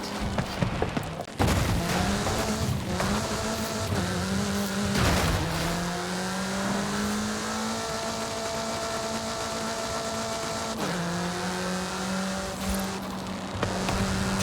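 Car driving fast in the racing game Forza Horizon 5, a sustained engine drone rising and falling through gear shifts, close and loud, with brief tyre noise and no talk.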